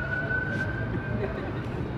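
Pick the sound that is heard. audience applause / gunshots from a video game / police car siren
police car siren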